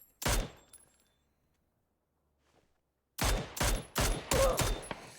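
Gunfire in a PUBG match: one sharp shot near the start, a long silence, then a rapid volley of five or six loud cracks in quick succession near the end.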